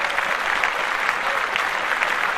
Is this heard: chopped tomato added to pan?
no